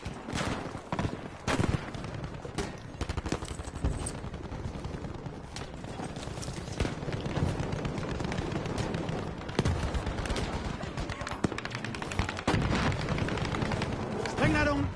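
Dense gunfire from Battlefield V combat, with repeated sharp shots and bursts running throughout over a continuous battle din, while players talk over the action.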